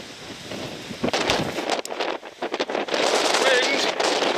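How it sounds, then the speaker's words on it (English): Strong wind buffets the microphone high on Cairngorm, roaring and gusting unevenly with a brief lull in the middle before surging loud again for the rest. "Wind!"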